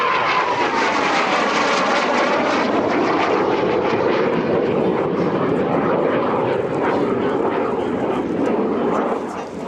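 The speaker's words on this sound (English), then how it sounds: "the Czech L-29 you saw fly by" A Czech L-29 Delphin jet trainer passes at an airshow with a loud, sustained whooshing jet roar whose pitch slides down as it flies by and slowly fades.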